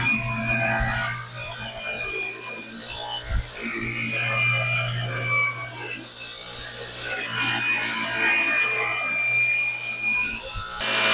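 Wooden wing tip bow staves for a Piper Super Cub wing are cut and shaped, producing a steady, close, harsh rasping and sawing drone with a constant low machine hum beneath.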